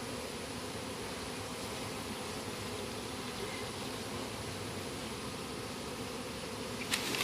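Bees swarm around a styrofoam cooler beehive outdoors, a steady dense buzzing drone holding at even loudness throughout, with a brief clatter near the end.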